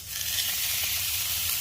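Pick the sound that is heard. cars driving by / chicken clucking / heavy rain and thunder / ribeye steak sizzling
ribeye steak sizzling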